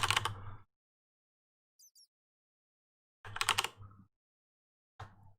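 Keys clack on a mechanical keyboard with brown switches, in two short bursts of rapid typing separated by quiet pauses, plus a couple of faint isolated clicks.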